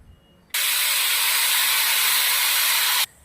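A pressure cooker whistle blows a single loud, steady hiss of escaping steam that lasts about two and a half seconds and then stops abruptly, with no talking.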